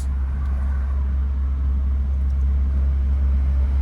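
A car's engine revs higher during a driving lesson, a steady, loud low rumble holding close and constant without speech.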